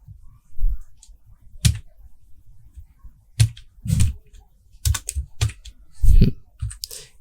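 Keys clack on a computer keyboard while inline CSS code is typed, in irregular bursts of close, sharp clicks separated by short pauses.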